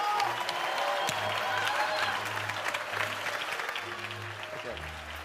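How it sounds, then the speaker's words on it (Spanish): An audience breaks into sustained applause, a dense wash of clapping that slowly eases, with a voice speaking over it. "Un enorme aplauso para recibir a Mariano Collantes."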